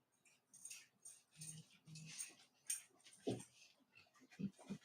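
A puppy whimpers faintly and shuffles around in the morning, with soft whines, small yips and light jangling movement noises, all quiet and close.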